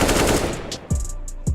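Gunfire in the video game CS:GO, a fast rattling burst followed by two sharp separate shots, loud and close with no talking.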